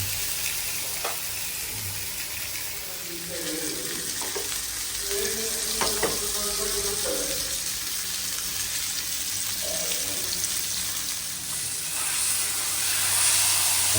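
Avoli (pomfret) fish fries in hot oil in a pan, giving a steady, close sizzle and hiss with a few scrapes and stirring clinks, and no talk.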